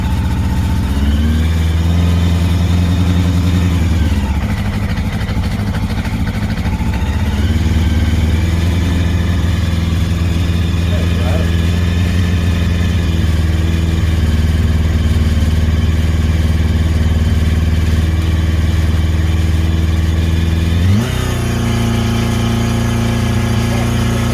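A Honda CBR 750 motorcycle engine runs steadily with a sticking throttle, holding a loud, close, sustained drone that surges and settles at a couple of points, with speech 0.48 hinting at voices mixed in.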